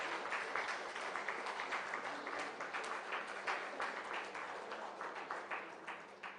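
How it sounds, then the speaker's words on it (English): An audience at an HR and TPO conclave gives a round of applause, moderately loud with individual claps distinct within a lively, uneven patter that continues for several seconds. "please give a big round of applause to all of us"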